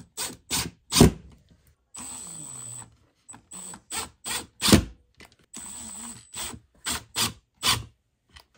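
A hinged rear door panel on a Sprinter van being swung open and closed. Sharp knocks and clacks alternate with a few longer creaking, rasping stretches, close and fairly loud, with no talk.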